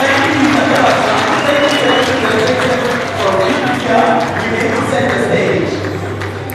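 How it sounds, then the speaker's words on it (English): A school district awards-function audience claps loudly and continuously, a dense close wash of applause with crowd voices mixed in throughout. "Can we give them a big round of applause?"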